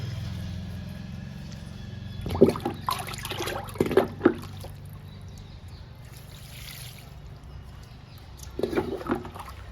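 Liquid fertilizer is poured onto indoor potted plants, including purple heart and rhoeo, in a few short splashing trickles over a steady low background hum.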